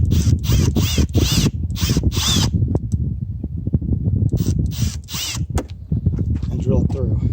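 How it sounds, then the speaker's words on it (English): A power drill bores holes through the stock front fender of a Yamaha RMAX 1000 during an OEM fender flare install, sounding in several sharp, close whirring bursts separated by short pauses, with a voice talking around them. "First thing you want to drill is this front one."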